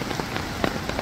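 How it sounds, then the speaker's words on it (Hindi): Steady rain falls by a river in a village, a dense close patter of drops hitting surfaces with no voices. "आप सब लोग सुनते हो यहाँ पर कैसे बारिश की मौसम है"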